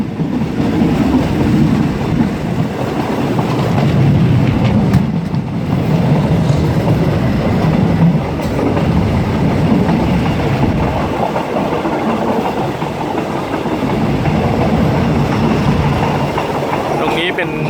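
Train 452 leaving Yala station in southern Thailand rolls along with a steady, loud, close rumble and rhythmic clickety-clack of wheels on rail joints, continuous throughout.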